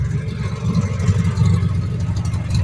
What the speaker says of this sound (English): it's definitely letting a lot of the air-cooled engine noise out